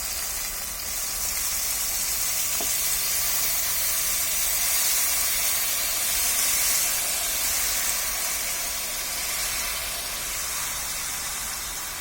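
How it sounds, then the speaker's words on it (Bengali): Washed rice frying with onions in a pan gives off a steady, loud sizzling hiss that holds evenly for the whole stretch, with no talking. "চালটাকে ভালোভাবে ভেজে নিতে হবে।"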